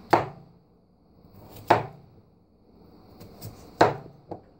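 A knife chops rinsed potatoes on a cutting board in a home kitchen, with three sharp cuts and a lighter tap at the end, spaced unevenly with quiet gaps between them.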